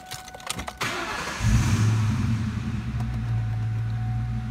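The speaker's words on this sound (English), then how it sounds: "let's climb in and fire this one up." A 2003 Ford Mustang GT V8 with a five-speed cranks briefly after some cabin clicks, then catches and settles into a steady, rumbling idle, close and alone.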